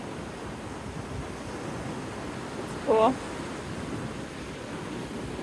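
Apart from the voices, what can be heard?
ocean waves crashing on a beach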